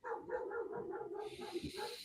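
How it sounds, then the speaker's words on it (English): A dog barks repeatedly in a quick, regular run of loud, close barks. A brief hissy noise joins partway through. "My dog's going crazy."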